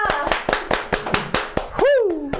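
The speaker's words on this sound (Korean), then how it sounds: "박수로 모시겠습니다." Applause welcoming a guest onto a Korean personal-finance talk show: a short run of sharp, evenly spaced hand claps, close and fairly loud, with a brief voiced sound rising near the end.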